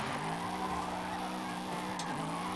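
Tires squeal in a long, continuous screech as a sports car spins out and skids in the Forza Horizon 5 video game, with engine noise underneath.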